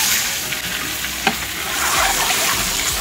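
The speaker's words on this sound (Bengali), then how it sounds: "এবার যাচ্ছে ডিম ভাজতে।" Eggs fry in hot oil at a roadside Bengali rice-meal stall, giving a steady, loud sizzle with stirring scrapes and one sharp clatter midway, no voices.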